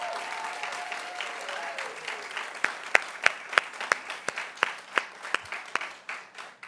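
An audience at a children's rehabilitation hospital event applauds. A voice speaks over the early clapping, which then breaks into loud, separate claps in a steady rhythm before fading.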